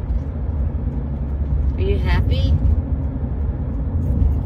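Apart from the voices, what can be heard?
car driving, heard from inside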